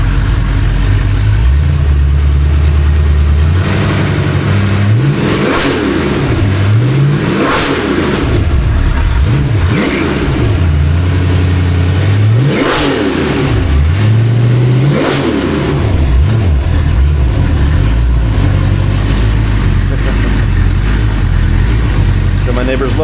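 A rebuilt Ford 289 V8 runs on a home-made engine stand, loud and close, blipped through a series of sharp revs that rise and fall back to a rumbling idle.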